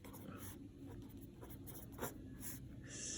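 Pen or pencil writing out a division problem on paper, a steady faint scratching with short strokes and taps over about three seconds, close and quiet with no talking.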